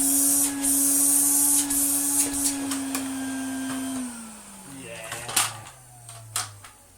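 A 1980 Spinney U62 vacuum cleaner whose suction is poor, running with a steady motor whine that winds down in falling pitch after switch-off, with clicks and handling knocks around it.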